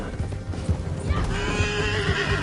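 A horse in Red Dead Redemption 2 whinnies loudly up close while hooves clip-clop at a gallop, the neigh rising over rapid rhythmic hoofbeats with no voices.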